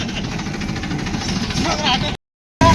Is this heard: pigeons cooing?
no